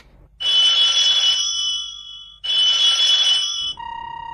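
An unanswered telephone rings in two long electronic bursts with a short gap between them, loud and close, then a higher steady tone comes in at the end.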